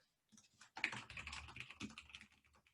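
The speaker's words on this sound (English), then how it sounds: "I'm going to quickly type something out in IntelliJ real quick." Quick typing on a computer keyboard while writing code in IntelliJ, with a close, irregular patter of keystrokes that starts after a brief silence, no voices.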